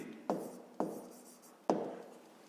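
Pen or pencil strokes on paper while working a fifth-grade math exercise: three quiet, separate scratching taps spaced about half a second to a second apart, close and isolated in near silence.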